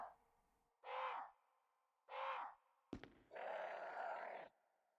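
Three harsh crow caws in the video game Resident Evil, each about half a second long, with a short thud just before the last, longer call. The calls are moderately loud over quiet background.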